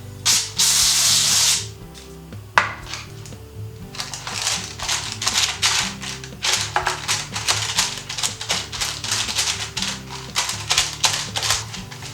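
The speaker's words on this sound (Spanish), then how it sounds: "Vamos a poner un poquito de aceite en papel de horno" Oil is sprayed onto baking paper in one loud hissing burst lasting about a second, followed by a run of quick, uneven crinkling and rubbing of the paper, close by with no talking.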